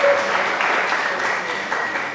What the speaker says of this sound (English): Yes, clapping is something we like